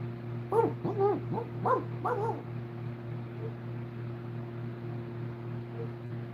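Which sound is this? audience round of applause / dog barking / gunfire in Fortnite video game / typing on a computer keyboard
dog barking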